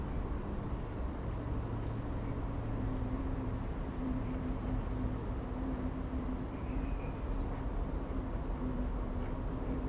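Nib of a Pilot Justus 95 fountain pen set to its hard setting scratching across paper in a continuous close-up writing sound, a steady soft rasp under a low background hum.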